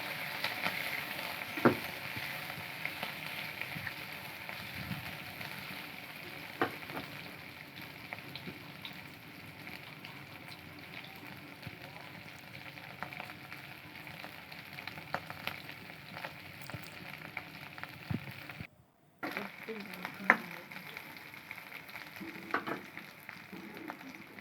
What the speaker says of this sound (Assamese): পিঁয়াজখিনি ৰঙচুৱা হোৱালৈকে ভাজিম